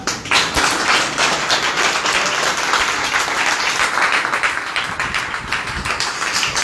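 A seminar audience clapping together on request, loud, dense and close, a continuous burst of many hands that keeps up an even intensity from start to finish, with no talk over it.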